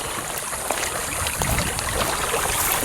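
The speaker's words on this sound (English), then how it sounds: "Water's flowing nice" Irrigation water flows steadily across a flood-irrigated field, a continuous rushing, trickling wash that holds an even level from start to finish with no voices.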